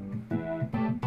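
Synthesizer patch in Logic playing a sustained, harmonically rich phrase with notes changing in three or four steps, close and moderately loud with no talking.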